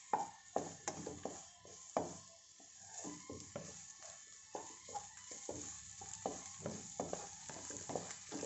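Ingredients sauté in ghee with black pepper for egg rice, giving a quiet sizzle broken by frequent spatula scrapes and taps against the pan in an uneven rhythm.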